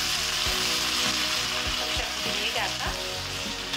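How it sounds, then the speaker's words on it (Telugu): A paste of turmeric, ginger and green chilli sizzles steadily in a hot pan, with loud continuous frying crackle and occasional stirring scrapes, no talking over it. "కొంచెం వేయించుకోవాలి"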